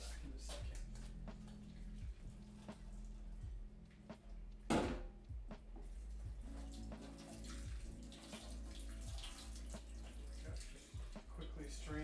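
Tap water runs steadily from a faucet while gluten-free ramen noodles for a vegan dish are strained in a kitchen, with a sharp clatter partway through and soft handling knocks over the constant stream.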